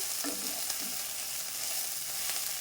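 Tender tamarind leaves sizzle in a pan over a slow flame, a steady close crackling hiss with a few soft stirring scrapes and no voices.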